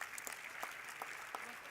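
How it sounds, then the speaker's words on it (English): Audience applause for a speaker at a youth goals challenge event in Doha, a steady wash of clapping at moderate distance with no voices over it. "Let's give her a round of applause, ladies and gentlemen."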